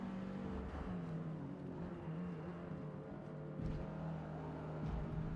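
Subaru BRZ racing in Forza Motorsport, a steady engine drone with tyre and road noise running continuously at moderate loudness, swelling slightly near the end.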